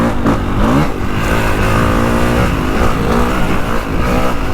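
A Honda CRF450R 450cc motocross bike revving hard, a loud continuous engine roar with shifting pitch throughout, close and filling the whole clip with no talk over it.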